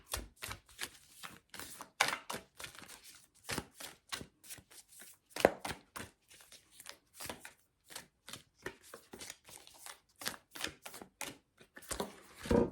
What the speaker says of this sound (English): This deck is so big. I always struggle to shuffle.